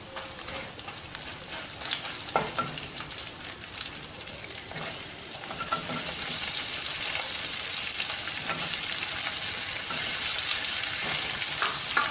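Onions fry in sesame oil in a pan for red capsicum chutney, a steady, close sizzle with stirring that grows louder and denser partway through and then holds evenly.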